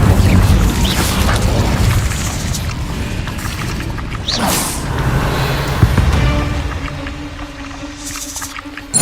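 A fire spell cast in the video game Hogwarts Legacy on PS5 gives a loud whooshing burst amid continuous rumbling game sounds and ambience.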